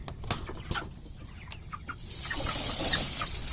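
Chickens in a chicken tractor cluck and squawk nearby in short bursts during a storm, followed by a rising rush of wind and heavy rain on the roof in the background.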